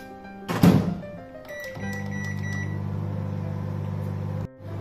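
A microwave oven roasting besan masala peanuts shuts with a thump, beeps several times as it is set, then hums steadily for a few seconds before stopping with a click.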